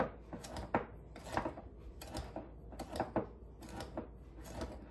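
Cinnamon and sugar being stirred together in a bowl, soft, fairly faint repeated scraping and tapping strokes in an irregular rhythm.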